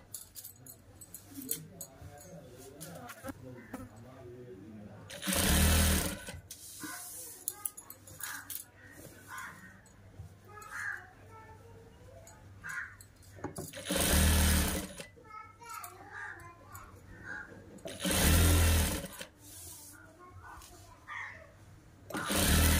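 A sewing machine stitches a joint in old saree cloth for a child's frock. It gives three loud bursts of rapid mechanical whirring, each about a second long, spaced among quieter handling sounds and background voices.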